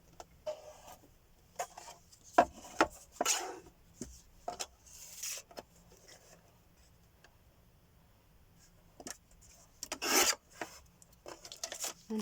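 A paper guillotine trimming paper for stamping crafts, with a series of brief close scraping slides and rasping cuts in irregular bursts amid light handling noises.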